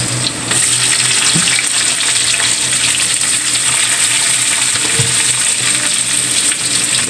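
Garlic and onion frying in a pan for Filipino dinuguan, a loud, steady hiss and crackle of oil filling the space close up, with a couple of faint utensil scrapes.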